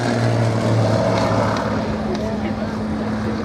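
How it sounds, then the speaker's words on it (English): An Extra 300 composite aerobatic aircraft with a powerful 6-cylinder engine drones steadily at an air display, its engine hum sustained and somewhat distant while a commentator talks over it. "Walter Extra's design, composite aircraft with that very powerful 6-cylinder engine gives the pilot the ability to demonstrate"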